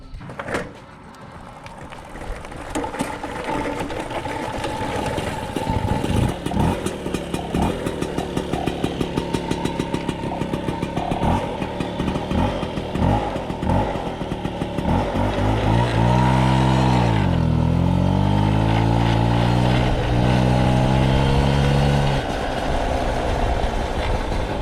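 Motobecane 40V moped heard from the rider's seat, its small two-stroke engine buzzing loud and close, revving and climbing through the gears with rising and falling pitch over about twenty-five seconds, no talking.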